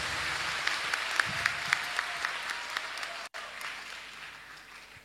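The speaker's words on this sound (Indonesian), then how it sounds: "Wow, tepuk tangan" Audience applause at a church talk fills the room, a steady dense wash of clapping with a few sharper individual claps standing out, briefly cut by a dropout, then easing off toward the end.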